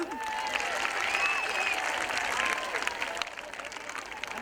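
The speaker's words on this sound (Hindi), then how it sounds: "अनुज सिन्हा जी के लिए एक बार तालियां" Audience applause for Anuj Sinha at a dance championship event in Noida, with steady crowd clapping for about three seconds that then thins out into scattered claps.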